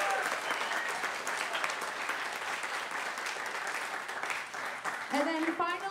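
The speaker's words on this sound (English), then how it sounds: "So big round of applause for volunteers" A recital audience applauds volunteer teachers with sustained, dense clapping throughout, the applause tapering slightly before a voice begins talking near the end.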